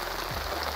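Rainwater collecting on a tarp top and dripping off at a bushcraft campfire, a steady soft patter of drops heard alone.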